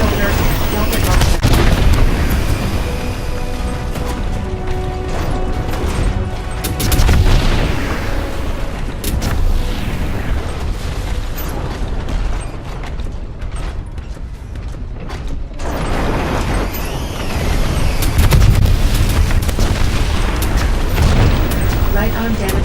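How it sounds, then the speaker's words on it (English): Rocket launcher fire and explosions in the Left Alive video game: heavy booming blasts and rolling detonations with mechanical clanks, loud and dense throughout, under intermittent voice. "Left shoulder. Rocket launcher."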